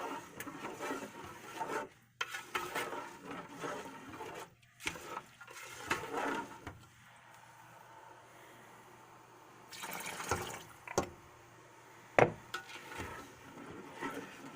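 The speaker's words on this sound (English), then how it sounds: "I'm going to add some chicken stock." Chicken stock is poured over risotto rice, with intermittent liquid splashes and rushing, mixed with scraping and rubbing noises, then a quieter stretch and a sharp knock near the end.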